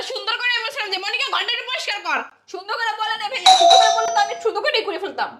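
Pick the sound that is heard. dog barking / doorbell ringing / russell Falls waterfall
doorbell ringing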